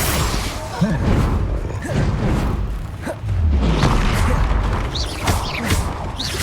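Bombarda spell explosions and combat effects in the video game Hogwarts Legacy, loud booming blasts and crashing impacts layered with whooshes, one heavy low thump near the middle, continuous and dense throughout.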